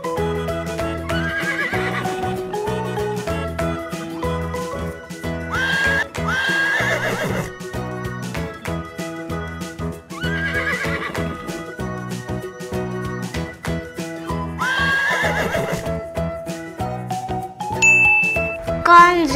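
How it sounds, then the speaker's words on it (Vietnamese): Horse neighs and whinnies recur over cheerful children's music, with bright bell dings and a light clip-clop of hooves running through. "Con ngựa."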